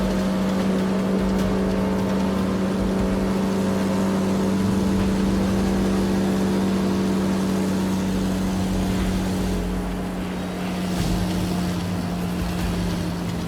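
A truck engine drones steadily through a chase in an animated story, a loud, continuous motor hum with a faint swell of revving near the end and no voices.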